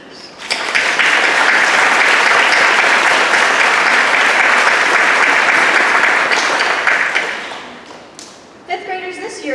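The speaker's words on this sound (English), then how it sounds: "let's please give one more round of applause to acknowledge and thank your wonderful families" Families and teachers at a fifth grade moving-up ceremony break into a loud, sustained round of clapping lasting several seconds before tapering off, followed by brief sounds from the hall.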